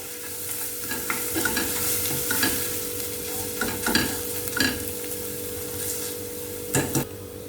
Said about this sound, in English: Now give this a nice mix. Let the raw smell of the onion go.